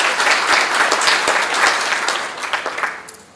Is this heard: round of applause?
yes